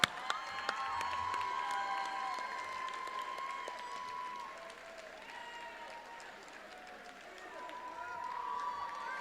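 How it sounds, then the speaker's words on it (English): Applause and cheering for award winners at an awards ceremony, a sustained crowd roar of clapping with shouting and whistle-like calls over it, dipping slightly midway before swelling again. "So please give them a round of applause"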